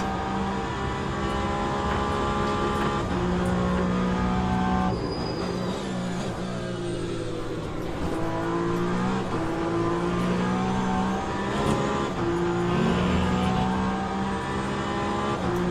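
A Porsche race car engine in the Le Mans Ultimate racing game holds a loud, sustained high-revving drone with rising and falling pitch as it shifts through gears, steady throughout and heard alone.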